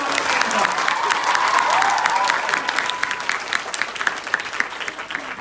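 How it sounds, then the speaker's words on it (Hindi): Loud applause from a comedy show audience rolls on for several seconds, many hands clapping close up, with a voice speaking over the clapping near the beginning. "जोरदार तालियां।"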